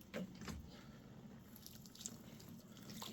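Water is poured onto potted seedlings during up-potting, a soft continuous trickle with a few faint splashes, close by and low in level, with no talk.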